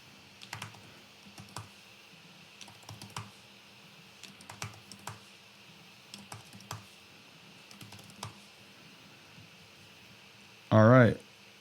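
Keys clatter on a computer keyboard while text is retyped in interface design software, coming in short clustered bursts of clicks with pauses between, ending in one loud thump.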